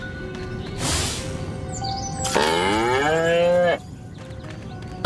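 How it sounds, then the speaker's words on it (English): A cow moos in the Destroy All Humans remake video game, one long, loud, drawn-out low call rising out of ambient game sound, alone without speech. "Again with the moo?"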